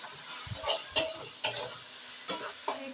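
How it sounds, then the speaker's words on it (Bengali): Ground cumin and coriander with salt are fried and stirred in a pan, with a soft sizzle under several distinct spatula scrapes and clinks against the pan, close and fairly quiet. "সব মশলাগুলোকে একসঙ্গে এবার কষিয়ে নেব আমি"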